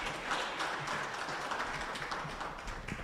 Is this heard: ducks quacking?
no